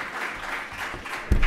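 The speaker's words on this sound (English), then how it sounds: "Please give him a warm round of applause." An audience at an annual review event applauds in a brief, soft, even patter that swells slightly at the end.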